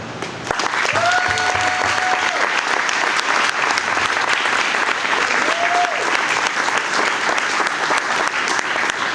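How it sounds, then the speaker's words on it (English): Applause from a campaign event audience for a state senate candidate fills the room, steady and loud from just after the start to the end, with a brief whistle-like tone and a murmur of voices riding over the clapping. "I want to give a big round of applause for everybody in this room"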